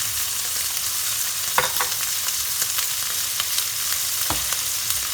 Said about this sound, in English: And let's stir fry this.